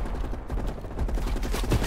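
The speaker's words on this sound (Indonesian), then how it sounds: "Ada tembak-tembakan ya." Gunfire in the video game Call of Duty Cold War crackles in a rapid burst of dense overlapping shots, loud and continuous across the short stretch.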